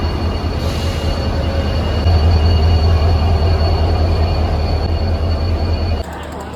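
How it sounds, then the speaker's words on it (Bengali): A train pulls into platform 19 of a station, a loud steady rumble of wheels and engine that swells midway and then drops suddenly near the end. "এই যে আমাদের ট্রেন ঢুকছে।"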